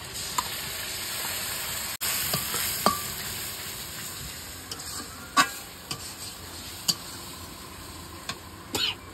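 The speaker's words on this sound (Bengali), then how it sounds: "এবার একটু নাড়াচাড়া দিয়ে দেবো" Fried rice with spices is stirred in a pan over a quiet frying hiss, with sparse sharp knocks and scrapes of the spoon against the pan, close by.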